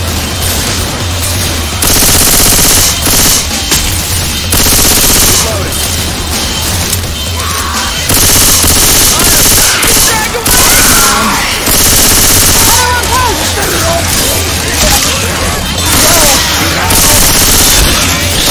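Heavy gunfire from the video game Left 4 Dead 2 comes in loud, dense automatic bursts with booming shots, broken by short pauses.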